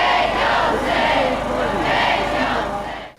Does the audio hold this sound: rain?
no